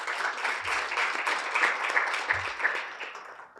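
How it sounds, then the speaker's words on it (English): An audience applauds after a captivating performance at a rights-themed event, steady dense clapping throughout with a couple of low thumps, no voices. "May we please have another round of applause"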